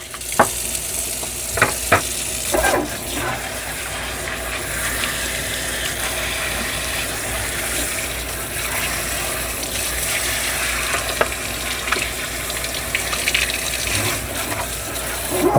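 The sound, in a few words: spraying Scrubbing Bubbles cleaner on Dyson Spot+Scrub parts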